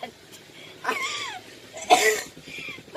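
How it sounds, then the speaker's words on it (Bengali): Someone with a cold coughs in two short bursts about a second apart, close and fairly sharp, with faint low murmuring between them. "ঠান্ডা লেগেছে একটু কাশি হয়েছে"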